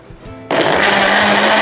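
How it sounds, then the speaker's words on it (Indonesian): A kitchen blender kicks on abruptly after a moment of quiet, then runs at a steady loud whir while blending spinach sauce ingredients for creamy soba noodles, close and continuous. "Baru kita blender."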